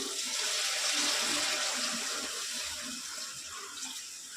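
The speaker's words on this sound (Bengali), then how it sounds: "জল অ্যাড করে দেবো।" Water pours steadily into a cooking pot for a fish and greens curry, a continuous close splashing rush that stays even and fairly loud throughout, with no talking.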